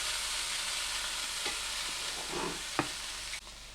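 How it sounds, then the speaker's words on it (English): Oiled filet mignon steaks sizzling steadily in a hot pan, a continuous close hiss with a few sharp pops and crackles partway through and a brief clatter near the end. "you hear that sizzling?"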